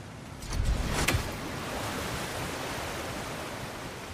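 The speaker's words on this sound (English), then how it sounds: "Sounds like you got the water moving along" Water flows in God of War Ragnarok as a steady broadband rush, with a brief louder surge near the start before settling into a constant wash, with no talk.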